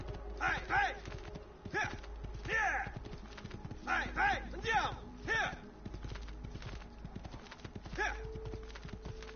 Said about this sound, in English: the horses don't run as fast as they do in the later games